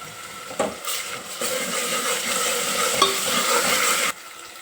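Ginger garlic paste fries with onions in hot oil for mutton curry, a loud continuous sizzle that swells as the paste goes in, with stirring scrapes, until it stops abruptly.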